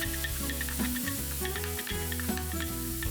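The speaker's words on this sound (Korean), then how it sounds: "애호박이 3분의 2 정도 익으면 가운데 자리 만들고 진간장 한 스푼 넣고 볶아서 밑간을 해주고" Zucchini sizzles steadily in a hot pan as it's stir-fried with a spoon of soy sauce, with background music playing throughout.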